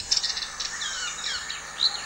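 Indian grey hornbill chicks call from a distance, a few thin, high squeals and chirps that rise and fall over faint background hiss.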